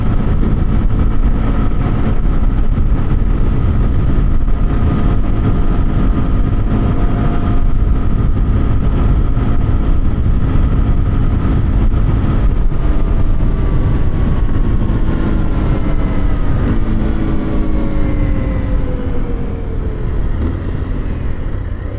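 A 2026 Kawasaki KLX 230 Sherpa S motorcycle ridden at about 55 mph on the road makes a loud, steady engine drone with wind rush, easing off slightly near the end, with no talking.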